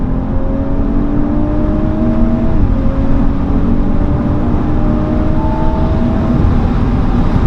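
Audi B9.5 S5 with an APR Stage 1 tune launching hard from about 4,000 RPM, its engine roaring steadily and loud with rising tones as it accelerates, a continuous close, powerful drone throughout.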